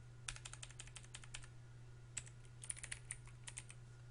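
Computer keys being typed to enter data and a condition into an Excel formula, two bursts of rapid clicking separated by a short pause, close and fairly quiet over a steady low hum.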